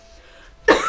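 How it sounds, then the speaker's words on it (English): A short, sharp cough bursts out close by after a moment of near silence, loud and harsh, continuing as the clip ends. "you respond to me by having a coughing fit"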